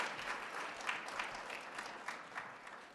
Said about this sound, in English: Give her a round of applause, thank you.